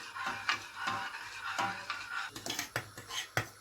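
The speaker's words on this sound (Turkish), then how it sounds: "Sürekli karıştıracağız böyle. Topaç olmaması için." A spoon stirs Turkish pudding (muhallebi) in a pot, with continuous scraping and rhythmic knocks against the pot wall, close and moderately loud.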